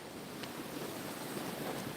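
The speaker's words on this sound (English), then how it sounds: "Sit here by the creek." A park creek flowing beside a bench: a steady, soft rushing wash of water with a windy, noisy texture, continuous and fairly faint, with no voices.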